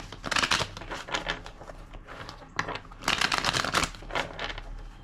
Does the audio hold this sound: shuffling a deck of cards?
yes